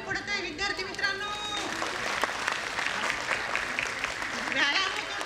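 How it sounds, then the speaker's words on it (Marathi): An audience at a national environment conference applauds, a sustained wave of clapping filling the hall, with a speaker's voice carrying over it. "टाळ्या कमी पडत आहे विद्यार्थी मित्रांनो"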